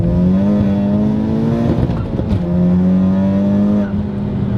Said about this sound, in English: See how easy it is to chirp gears?